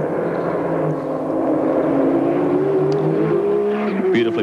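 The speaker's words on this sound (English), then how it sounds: "Checkered flag time for Mark Gibbs and the GIO GTR" A Nissan Skyline GT-R race car engine drones loudly and steadily during a 1991 Bathurst 1000 lap, its pitch gradually climbing as it speeds along, with a brief sharper burst near the end.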